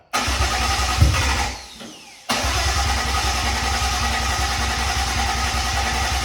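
A Toyota Aristo's 1JZ-GTE engine cranks, catches briefly, dies away, then fires again and settles into a steady, loud, close-up idle.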